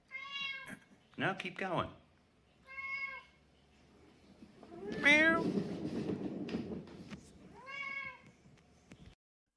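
A pet cat meows repeatedly in clear, separate calls close by, each a short drawn-out cry, while a person speaks encouragingly between and over them.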